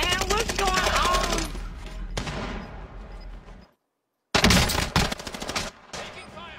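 Gunfire in Call of Duty: Warzone, loud rapid bursts of automatic shots close by, a short silent gap midway, then more sharp volleys.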